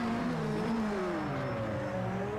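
A Toyota race car in Project CARS 2 at Spa, engine held at full throttle with a loud, steady high-pitched howl whose pitch shifts slowly, heard up close with no talk.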